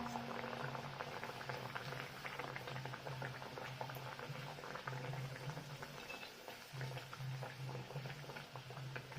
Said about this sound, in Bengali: আমি একটা একটা করে ভেজে নেব।